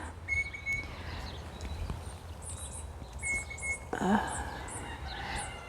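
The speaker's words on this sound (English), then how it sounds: "If you hear that little bird, and it's a fairy wren" Fairy wrens chirp and trill in high, quick bursts in an Australian garden in spring, some calls near and others farther off, over a soft background murmur.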